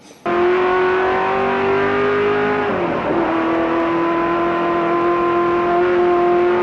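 A modified Ford Transit race van engine holds a loud, steady high-revving drone, briefly dipping and roughening as it shifts before climbing back to a sustained, strained wail.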